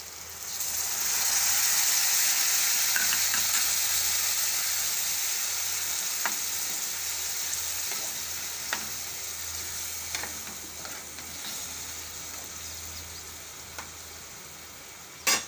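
Capsicum sizzles in hot oil for a Gujarati capsicum-and-curd curry, a steady, fairly loud frying hiss with a few faint crackles and pops throughout.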